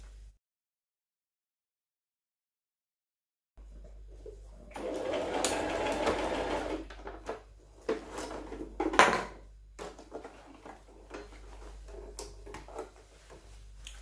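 A sewing machine stitches a seam on a women's trouser. It starts after a silent stretch, then runs in close, uneven bursts of rapid mechanical whirring with short pauses and clicks between runs.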